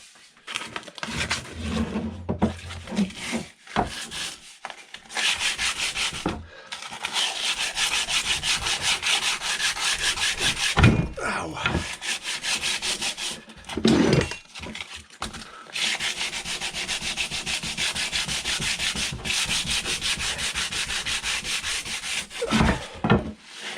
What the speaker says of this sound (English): Give this guy a good sanding.